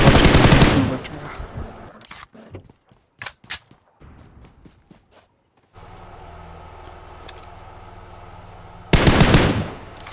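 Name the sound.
gunfire in the video game PUBG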